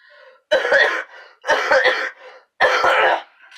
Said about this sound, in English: I'm sick, so I cough a lot in the video.